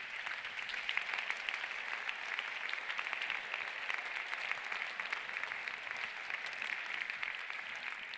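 Audience applauding at the Premio Terzani 2023 award evening for Zerocalcare, steady sustained clapping from many hands filling the whole stretch at moderate loudness.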